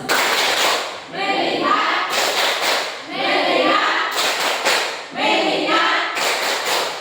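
A classroom of students claps the rhythmic 'tepuk fokus' pattern, with loud bursts of group clapping in regular groups that alternate with a teacher's voice calling out between rounds.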